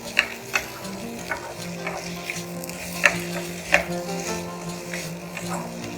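Baby corn sizzles and fries in an Indo-Chinese sauce in a pan, a steady close crackle broken by periodic sharp scrapes and taps of a spoon stirring, moderately loud with no voice.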